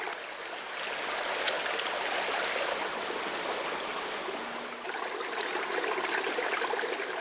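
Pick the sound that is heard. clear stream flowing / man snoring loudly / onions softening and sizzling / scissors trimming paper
clear stream flowing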